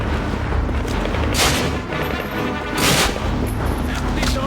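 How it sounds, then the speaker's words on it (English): Thompson submachine gun fire in the video game Call of Duty: Finest Hour: two loud, brief bursts of shots stand out over a constant din of battle noise. "So, a few shots from my Thompson."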